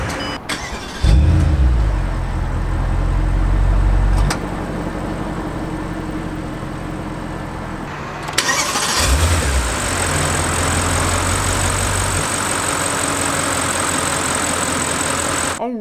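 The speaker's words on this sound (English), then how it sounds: "let's start up the engine." A Bentley Continental GT's 4-liter twin-turbo V8 cranks and fires with a loud low roar, settles into a smooth idle, then is restarted a few seconds later with another surge before idling evenly. Close and clear, no talk.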